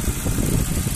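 A 2006 Ford Focus 1.6 petrol estate with automatic transmission, recently serviced, idles with a low, smooth, continuous rumble, close and steady throughout.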